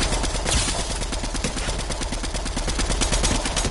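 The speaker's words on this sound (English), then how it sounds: "I'm just gonna shoot this." Continuous rapid automatic gunfire from a gun in a video game, loud and close, a dense burst of shots running throughout with no pauses.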